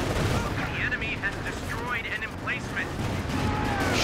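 Gunfire volleys in Company of Heroes 2 crackle in dense, overlapping bursts through a tense 4v4 urban assault on the Road to Arnhem map, with rumbling battle noise underneath and players talking throughout.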